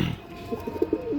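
Flying pigeons from Andhra coo nearby in a quick series of short, low, pulsing notes, quiet and alone.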